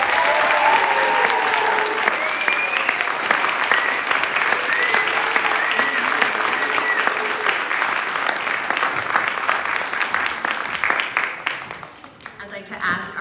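A theater audience at a state poetry recitation final gives a loud, sustained round of applause for the educators. The dense clapping runs for over ten seconds before thinning out, with voices faintly mixed in.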